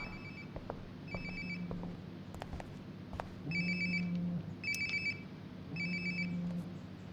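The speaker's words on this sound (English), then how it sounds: "Sounds like my phone is definitely nearby." A mobile phone rings nearby in the game Life is Strange: Before the Storm, a repeating electronic ringtone in short bursts over a low steady background, with no speech.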